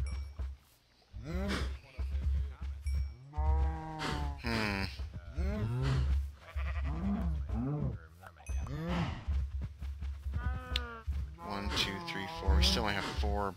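Cattle mooing in Minecraft, several drawn-out moos overlapping in repeated calls, fairly loud and close, with a steady low hum beneath.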